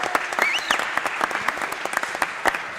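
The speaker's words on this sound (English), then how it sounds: "Big applause. Woo!" A crowd at a startup venture day event claps and cheers, with sharp individual claps standing out over the general applause and a rising whoop or whistle near the start.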